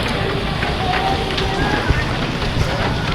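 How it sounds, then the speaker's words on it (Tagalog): Light rain falls on the streets of Vigan, making a steady, even hiss close by with a few soft patters and knocks and no pauses. "hindi naman na malakas ang ulan"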